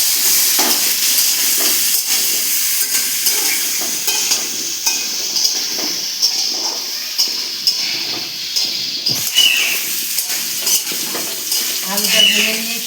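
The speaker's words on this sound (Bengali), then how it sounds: "হলুদটা দিয়ে ভেজে নিচ্ছি।" Turmeric and potatoes frying in a hot pan, giving a steady close hiss and sizzle throughout with occasional stirring scrapes and clinks, no talk.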